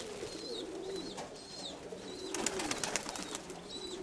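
Pigeons coo repeatedly around an overgrown grassy feeding patch near a dovecote, soft rhythmic calls recurring through the clip with faint rustling and background noise, no talk.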